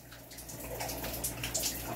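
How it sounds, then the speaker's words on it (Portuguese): A newly installed shower runs as someone bathes, with a steady, fairly quiet hiss of falling water and light splashing that continues throughout and has no talking. "Quem diria que eu ia filmar eu tomando banho"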